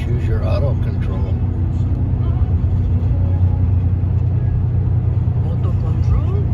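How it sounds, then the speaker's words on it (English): A truck engine drones loud and steady from inside the cab as it brakes on a long foggy downhill over the Siskiyou Summit, with low rumble throughout and a voice talking over it. "Listen to the truck. Yeah. It's gearing me to slow me down."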